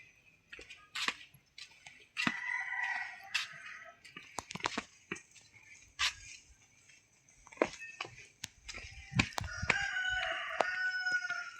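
Birds call and chirp in short bursts over quiet outdoor ambience, with a rooster-like crowing standing out among the chatter.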